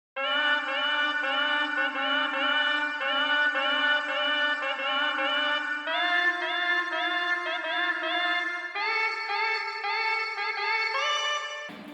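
A redesigned synth sample plays a slow, low-pitched melody in a lower octave, sustained notes stepping upward in pitch, steady and alone without any talking.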